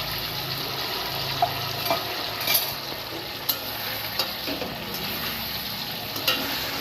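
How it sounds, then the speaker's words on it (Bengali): Potato goes into a frying pan with a small tomato for a vegetarian paneer dish: a low, soft sizzle runs under a few light clicks and taps of a utensil against the pan. "এবারে আমি আলুটা এর মধ্যে দিয়ে দিচ্ছি।"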